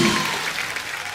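Studio audience applause on a Hindi comedy talk show, a steady, dense wash of clapping throughout with no break.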